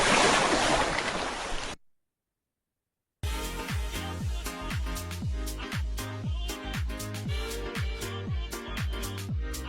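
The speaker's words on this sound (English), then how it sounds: "Hearing the ocean waves." Ocean waves give a loud, broad, hissing rush of surf for under two seconds, then stop abruptly. After a short silence, unrelated rhythmic music with a steady thumping beat plays to the end.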